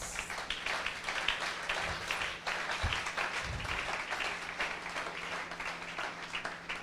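A church congregation applauding to acclaim God, a dense, continuous wash of clapping that stays fairly even throughout, with a few louder low thumps midway.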